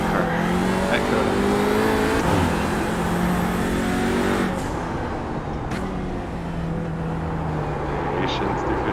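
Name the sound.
Audi RS3 TCR race car engine in iRacing video game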